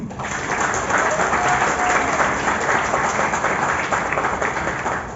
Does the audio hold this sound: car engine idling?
no